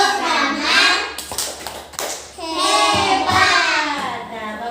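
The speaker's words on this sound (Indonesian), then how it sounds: "kita kasih tepuk hebat buat Damar dulu" Elementary classroom doing the "tepuk hebat" clapping chant for a pupil, children chanting loudly together with bursts of rhythmic hand claps, close and lively.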